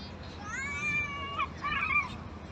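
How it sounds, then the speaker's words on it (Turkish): A black cat meows twice in drawn-out, wavering cries over a steady background murmur, in Salacak, Istanbul. "Bakın kedi. Hem de siyah bir kedi içeride."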